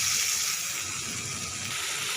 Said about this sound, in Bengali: আমি এখন মাংসটা ঢেলে দেবো।